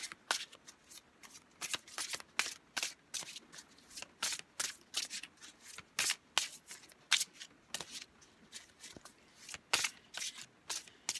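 Tarot cards are shuffled by hand in a steady series of crisp riffling bursts, close and fairly quiet, repeating rhythmically with no talk.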